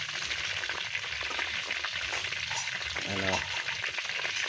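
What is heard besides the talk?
pork head frying in oil for crispy ulo ng baboy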